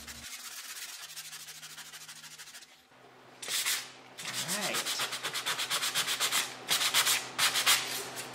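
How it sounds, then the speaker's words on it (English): Sandpaper scrubs laser flash burn marks off a wooden barrel-top sign: a quiet hum first, then bursts of rhythmic back-and-forth rasping strokes, close and fairly loud, repeating quickly. "The laser burning will cause an overburn or like a flash burn in some areas, and that is what I'm sanding off."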